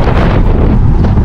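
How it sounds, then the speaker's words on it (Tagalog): Strong gusty wind after Typhoon Gaemi in Taiwan roars loudly and continuously against the microphone, a dense rushing buffet with no voices over it. "Medyo malakas pa rin po yung hangin mga katropa."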